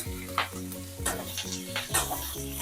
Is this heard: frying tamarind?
yes